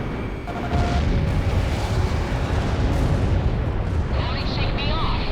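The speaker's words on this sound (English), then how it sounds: "Enemy tank destroyed." An enemy tank blowing up in the Ace Combat 6 video game, a heavy rumbling explosion sustained over several seconds, with radio voices and a jet roar mixed in.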